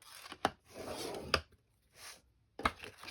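A few sharp creasing and scraping strokes as lines are scored into paper for a small pizza-box craft, three crisp close hits separated by softer dragging rasps, with no talking.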